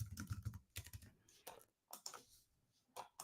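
Quick bursts of typing on a computer keyboard as a crypto wallet password is entered in a Chrome extension, close and fairly quiet, with uneven clusters of key clicks separated by brief pauses.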